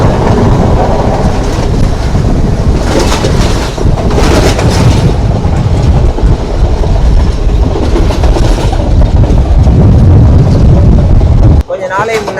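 A train passes close by on Sri Lanka's coastal railway with a loud, continuous rumble and wheel clatter, buffeted by wind noise, until the sound cuts off abruptly near the end.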